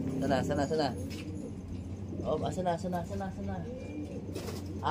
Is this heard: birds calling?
yes